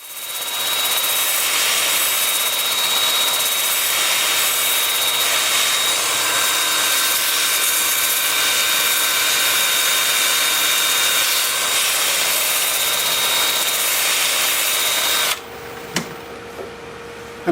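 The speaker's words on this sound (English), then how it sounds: "I'm starting the sanding at 120 grit. I've got the piece spinning in reverse at about 400 RPM." Continuous hissing, rushing friction of 120-grit sandpaper against wood spinning in reverse on a lathe at about 400 RPM, steady and close, ending with a few brief knocks.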